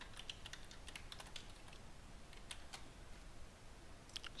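Credentials being entered on a computer keyboard while joining a Windows Server 2019 machine to a domain: quick, faint clicks of keys in irregular bursts over a low background hum.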